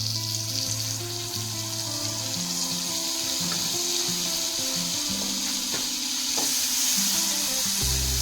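Butter melting and sizzling in a kadai while making dhaba-style butter paneer, a steady close frying hiss with light scraping of a spoon and a low musical drone playing underneath.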